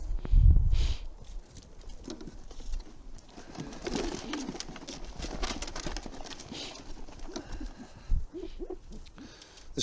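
A pigeon coos softly amid rustling and handling noises, with a low thump near the start.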